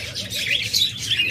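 Caged budgerigars and lovebirds chirp and twitter close by in a busy, continuous overlapping chatter.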